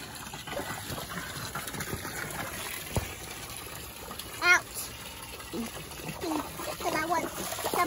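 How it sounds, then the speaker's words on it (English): Water gushes steadily to fill a backyard swimming pool, a continuous splashing wash running throughout while children and adults talk over it. "Can somebody stop the water?"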